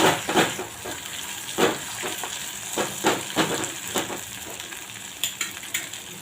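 Onion, garlic and green chili sautéing in a pan for smoky brinjal bharit, a steady sizzle broken by several sharp scrapes and clinks of a spatula at irregular intervals, close and moderately loud, with no talking.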